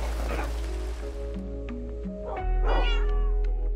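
Cats meow in the Minecraft video game, a couple of short, bright mews close by over steady background music and a low hum, the second cry louder near the end.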